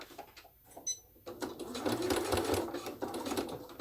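Sewing machine running a 1 cm seam along a crossbody bag with a narrow gauge foot, its steady close whirring starting after a brief pause and carrying on continuously.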